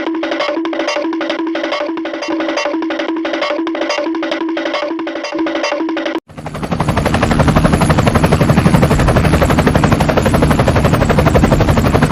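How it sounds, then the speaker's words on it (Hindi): A helicopter in an animated 3D game, first a steady rhythmic rotor chop with a droning tone, then an abrupt switch to loud, dense, continuous rapid gunfire with the engine roaring underneath. "कद्दू, हेलीकॉप्टर को तेज भगाओ, वो ड्रैगन दूर निकलता जा रहा है।"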